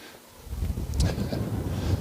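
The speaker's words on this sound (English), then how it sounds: "Very windy as well, starting to get up." Gusty wind on the summit of Blencathra in the Lake District buffets the microphone in low, rumbling surges, loud and close, with no voices.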